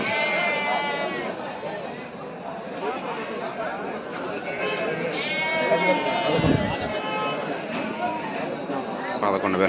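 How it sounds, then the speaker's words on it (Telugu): Sheep bleat repeatedly amid a busy ram and sheep market at Pileru, a steady crowd chatter filling the background while nearby people talk over the animals' wavering calls. "ఇది గొర్రె."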